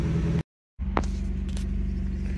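A 2000 Nissan Sentra with an EGR bypass and a lingering misfire idles at a steady low rumble, close by. The sound drops out briefly, then the same even idle returns.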